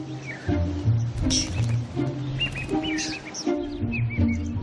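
Chirping calls of oxpeckers perched on giraffes on the African savanna, repeated short tweets and trills over a low hum, fairly close and clear.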